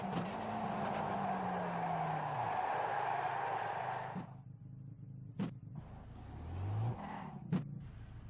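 A Skip Barber race car in iRacing at Canadian Tire Motorsport Park screams at high revs with a sliding engine tone, then cuts out into sharp crash impacts and scraping thuds as it spins and wrecks.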